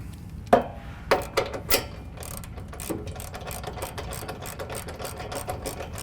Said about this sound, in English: Then we'll go ahead and tighten up this bolt on the top.